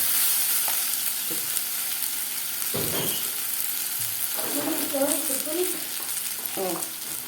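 Rice being sautéed in a pot during a peas and carrots dish, a steady sizzle with scraping stirs and a few clinks of the utensil, fairly close and with no talking.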